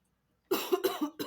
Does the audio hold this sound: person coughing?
yes